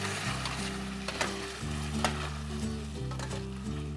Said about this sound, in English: we're gonna go ahead and put a can of tomato sauce, and we're gonna stir that in.